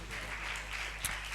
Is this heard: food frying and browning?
no